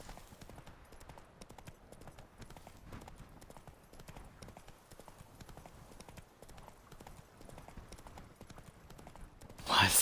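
Horse galloping in The Witcher 3, a steady rapid clip-clop of hooves with no music, quiet and even throughout, with a brief louder burst at the very end.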